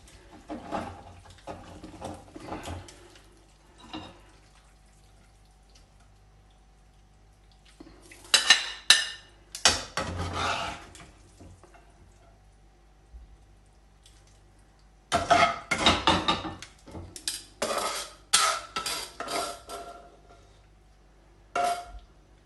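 Seared tuna spaghetti being plated, with pans and cutlery clattering and scraping in two busy bursts separated by quiet stretches, close and fairly loud, no talking.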